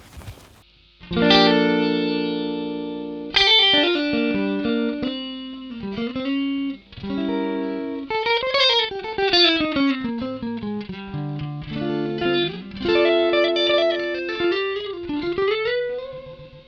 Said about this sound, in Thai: เราก็จะเริ่มได้ยิน ดีเลย์ที่มันสแลปแบ็กแบบว่า อุ่นขึ้นและเพาะขึ้นด้วย